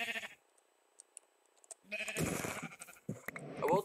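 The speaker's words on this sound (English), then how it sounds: "Look at all these sheep." Sheep in the video game Minecraft bleat in a few short, close calls separated by quiet gaps, with game noises in between.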